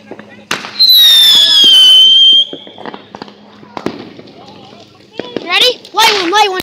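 Fireworks being lit and set off outdoors at night: sharp cracks and a long whistling screech as one launches, then scattered pops and crackles with a second whistle at the end, with voices of people nearby.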